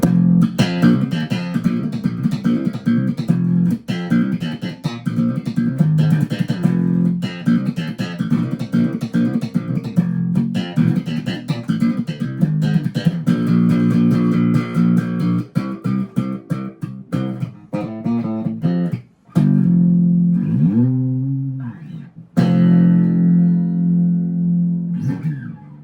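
A Warwick RockBass Corvette Basic four-string electric bass plays alone, a punchy fingerstyle riff with steady, driving notes, ending in a few sliding, bending phrases.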